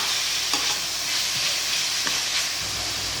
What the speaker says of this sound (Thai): ที่เรานำหมูสามชั้นลงไปผัดก่อนนะคะ เพื่อที่ว่าให้มันมีน้ำมันออกมา